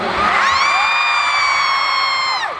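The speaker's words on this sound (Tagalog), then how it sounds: "Ang lakas ng mga sigaw talaga." Concert crowd at a finale show screaming and cheering loudly and continuously, with high sustained shrieks from many voices forming a dense wall of sound.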